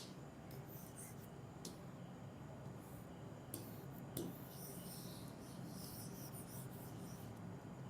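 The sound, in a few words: writing on a board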